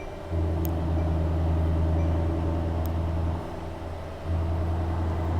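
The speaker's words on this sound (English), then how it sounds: "Let me just get the engine started so you guys get to see the infotainment." A Mercedes-AMG S63 Coupe engine catches at the start and settles into a steady low hum, briefly dropping away before picking up again.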